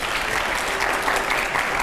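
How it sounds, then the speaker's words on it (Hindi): A studio audience claps steadily and loudly at a televised political debate, with dense, continuous applause and no pause. "जोरदार तालियां प्लीज"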